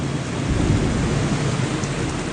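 Heavy rain pours in a dense, steady hiss with a deep rumbling thunderstorm beneath it, loud and continuous throughout.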